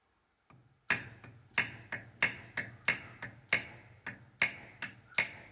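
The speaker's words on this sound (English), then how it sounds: "Swapped to a bigger, heavier hammer." Heavy hammer blows strike a gearbox oil seal beside an aluminium gearbox casing, about a dozen sharp metallic taps in a steady rhythm, loud and close with brief ringing after each hit.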